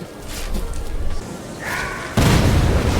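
A sudden heavy explosion in the Roblox game Guts & Blackpowder booms in after a stretch of murky, rumbling game noise, then roars on loud and dense to the end.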